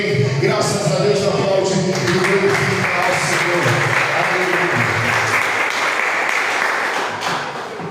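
A church congregation applauds in praise during a service, loud, dense clapping that holds steady for several seconds before tapering slightly at the end, with voices mixed into the crowd noise.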